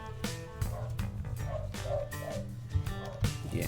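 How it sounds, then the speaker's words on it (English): Out in the wild, a small dog barks a few times at a moderate distance, short yaps and yips scattered among low rustling and background noise. "you can hear the doggo"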